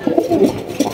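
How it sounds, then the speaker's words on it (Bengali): A pair of red indigo pigeons at a pigeon farm, giving soft, low, throaty coos in a few short close-up bursts. "রয়েছে একজোড়া বন্টিনেট কবুতর দেখতেই পাচ্ছেন"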